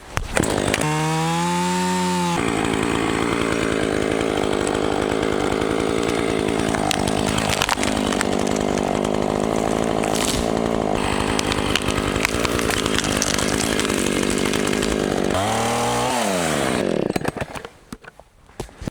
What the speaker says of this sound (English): There's somebody else felling trees that way.